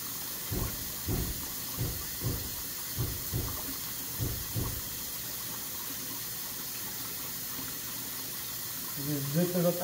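A zip bag is pushed under water and rolled, making a series of soft rhythmic sloshing pulses about every half second over a faint running-water hiss, with a voice starting at the end.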